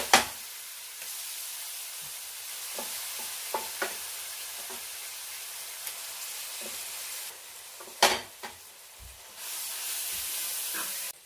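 Mashed dates frying with turmeric powder in a pan over low heat: a soft, steady sizzling hiss broken by a few light stirring clicks and scrapes, with a louder spitting burst toward the end.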